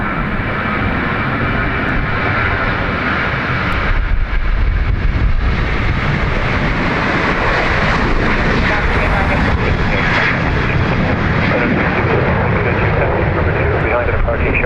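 An airliner departing Dublin Airport roars steadily and loudly across the whole stretch, a broad continuous jet rumble with no pauses, apparently heard from near the runway.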